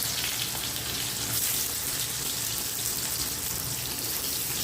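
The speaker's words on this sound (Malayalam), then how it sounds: "നമ്മുടെ ഉള്ളി ഇടാൻ ടൈമായി" Onions sizzle in a hot pan for an egg dish, a loud, dense, continuous hiss that stays close and even throughout, with no voices.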